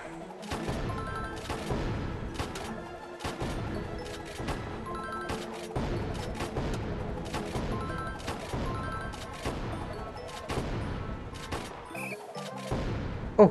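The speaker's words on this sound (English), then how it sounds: "So no fighting, it's just shooting range challenge." Rapid, dense bursts of gunfire ring out in the Guardian Tales shooting range challenge, shot after shot in a fast continuous volley with sharp cracks and crashes, loud and close throughout with no voices.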